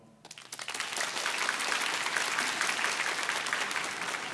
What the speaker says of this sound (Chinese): 给我一点掌声好不好？